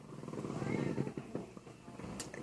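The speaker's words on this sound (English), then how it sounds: "This is my cat, Sadie." A house cat named Sadie purrs close up in a steady, low rumbling stream, with faint voices in the background.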